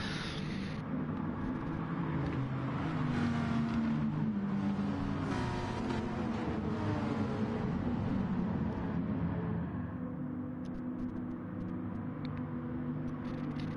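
Race cars on a formation lap in a racing video game, steady engine drone and rumble with revs rising and falling, continuous and fairly close, no talking over it.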